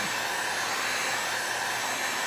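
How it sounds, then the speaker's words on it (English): A hot-air blower heating a cup before epoxy is spread gives a loud, steady, close whooshing hum that runs unbroken throughout. "So I'm going to heat this cup up, and it's going to make it a lot easier for the epoxy to spread."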